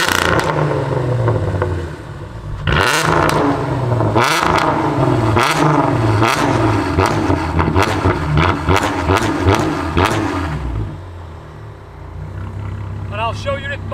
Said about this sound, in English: It'd be rude not to do some revs.